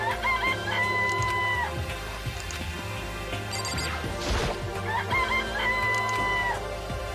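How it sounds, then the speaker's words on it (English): Chicken clucks and a warbling squawk from the DanganRonpa video game, two repeated electronic-sounding calls bracketing a sharp crash-like burst in the middle over a steady background hum. "That's a very terrible chicken noise."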